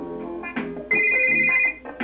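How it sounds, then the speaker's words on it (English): A telephone rings in the Shark Tale video game, a bright electronic melodic ringtone with repeated tonal bursts, loud and close with music underneath. "Phone ringing."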